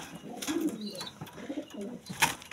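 Racer pigeons coo softly and close by in a short run of low, throaty coos, with a sharper flutter or chirp near the end and no speech.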